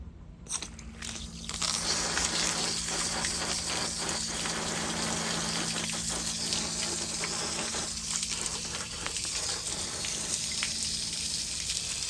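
Garden hose spraying water onto an Aiper cordless robotic pool vacuum to clean it, a steady close rushing hiss that starts after a short quiet moment and runs on with splattering crackles.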